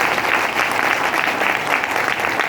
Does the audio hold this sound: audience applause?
yes